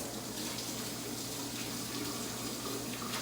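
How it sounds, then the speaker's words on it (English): Steady close-up rush of tap water over hands being rinsed at a sink during barbecue prep for beef roast and pork ribs, a continuous broadband hiss with a low hum, no talking. "So now I'm just gonna quickly give my hands a rinse here."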